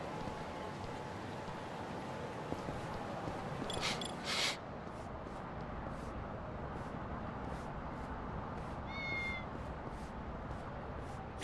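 A cat in the video game Lost Judgment lets out a short, faint meow near the end, over steady low in-game ambience.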